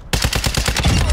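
Rapid burst of video game gunfire in Call of Duty Warzone DMZ, a steady string of about ten sharp shots in quick succession, loud and close, with no voices.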